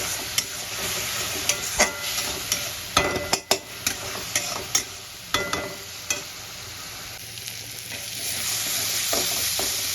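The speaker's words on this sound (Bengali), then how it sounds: "আমি আদা রসুন কাঁচা লঙ্কা বাটাটা দিয়ে খুব ভালো করে কষাবো।" A paste of ginger, garlic and green chilli sizzles in a pan while a spoon stirs it at a steady rhythm of clinks and scrapes. The cooking is close and continuous, with no talking.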